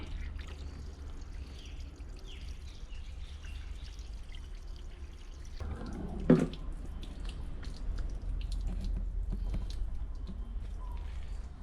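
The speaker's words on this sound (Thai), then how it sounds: "ก็กรอกน้ำไหลผ่านหน่อย" Water poured and flowing through a Toyota Sport Cruiser radiator while it is flushed, a faint trickle with a brief splashing gush midway, then steady running water.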